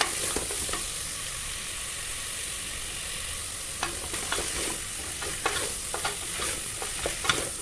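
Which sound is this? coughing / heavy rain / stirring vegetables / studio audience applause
stirring vegetables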